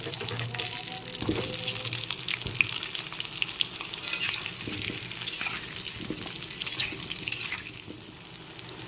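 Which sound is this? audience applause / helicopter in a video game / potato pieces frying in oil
potato pieces frying in oil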